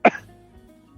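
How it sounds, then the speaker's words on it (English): A single short, close cough bursts out at once and then fades into a quiet room, with faint low hum afterward. "Why are you coughing?"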